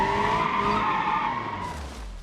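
Sustained tire squeal from a car drifting in a driving video game, loud and continuous for a couple of seconds as it slides, fading slightly near the end.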